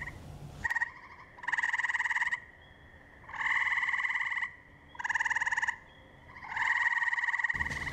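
A gray tree frog gives loud, close trilling croaks in five long pulsed bursts separated by brief pauses, with no other sound around.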